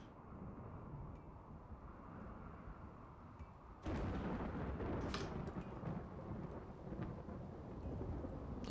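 Steady rain with rolling thunder in the RimWorld video game; a low, continuous wash of rainfall swells suddenly louder partway through as thunder rumbles in, with no talking.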